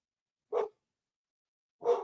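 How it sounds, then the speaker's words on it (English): Two short, close dog barks, separated by more than a second of silence, each a single sharp woof at moderate loudness. "You got a dog in your ear, and then you got another dog in your ear."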